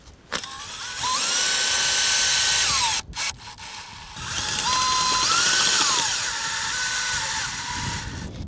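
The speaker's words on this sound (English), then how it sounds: "I'm gonna drill another hole for the camera." A power drill bores a hole through frozen lake ice for pike fishing. Its loud, close whining motor runs in two sustained spells, rising and dropping in pitch, with a brief gap between them.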